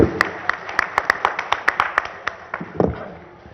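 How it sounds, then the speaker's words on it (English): Scattered, uneven clapping from a conference audience after a panel session on the future of news, with distinct individual claps that thin out toward the end. "Let's have a round of applause for the last session."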